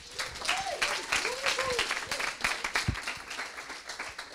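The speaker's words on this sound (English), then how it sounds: "big round of applause for Green Rocket." An audience at a coding bootcamp demo day in London bursts into steady applause, many hands clapping together in a dense sustained wash, with a few voices and cheers mixed in.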